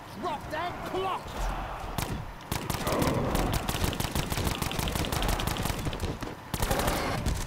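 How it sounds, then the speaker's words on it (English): Rapid pistol gunshots in the Black Ops video game, a dense string of sharp repeated cracks over several seconds amid game action, with a brief pause before more fire near the end. "This gun takes so many shots."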